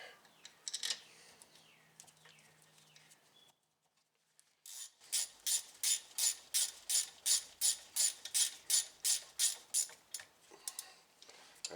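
A ratchet wrench runs the lower brake caliper bolt into a 2006 Buick Lucerne during a pad and rotor job. It clicks in quick repeated bursts, about a dozen even strokes, close and clear, after a short quiet gap.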